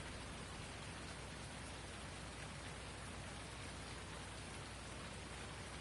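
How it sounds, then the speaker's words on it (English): Steady rain falls on a soggy Sunday in Davenport, a dense, even hiss of drops on surfaces that stays constant and fairly faint throughout, with no talking. "It's a nice runoff rain."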